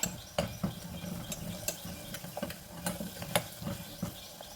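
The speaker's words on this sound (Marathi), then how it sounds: "घाटून घेते" Turmeric and mutton masala being stirred in a pan, with repeated soft scraping and clinking strokes of a spoon at an irregular rhythm, close and quiet, with a faint sizzle underneath and no talking.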